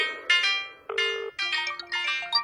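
Phone ringtone on an outgoing call, a bright electronic melody of separate chiming notes and short phrases, clear and close, with no voices.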